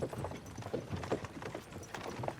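Horses in the Kingdom Come Deliverance 2 video game clip-clop at a steady walking pace, their hooves making a continuous, close rhythm of hollow knocks.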